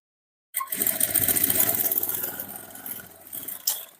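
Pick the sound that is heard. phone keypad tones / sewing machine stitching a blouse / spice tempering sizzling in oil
sewing machine stitching a blouse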